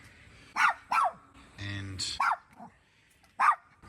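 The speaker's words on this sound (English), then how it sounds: "The dogs have ventured outside." Mini fox terriers bark outdoors at sunset in sharp, close yaps, several single barks spaced apart with a brief growl between them, while a person speaks briefly.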